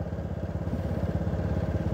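A new scooter's small engine idling after fine-tuning, a close, even low putter with rapid regular firing pulses and a slight clattery edge, steady without revving.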